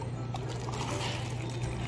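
Water pours steadily for a couple of seconds, a soft continuous trickle under a low hum, close by.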